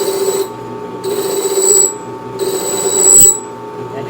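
Hand-filing hard steel while making replacement solenoid buffers for a tracker pipe organ's electric stop action rings out in sustained high metallic tones. The ringing swells with each stroke and fades briefly between them, loud and close, with no other sounds.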